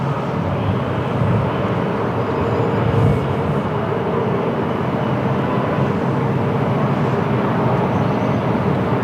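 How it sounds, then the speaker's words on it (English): A CRJ 1000 jet airliner lines up on the runway at Lisbon Airport on a windy day, giving a steady, broad engine rumble and roar that holds fairly loud and constant throughout, with no talk. "CRJ 1000 lining up."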